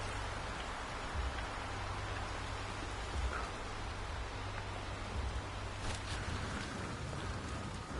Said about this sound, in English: See that little bit of rain inside?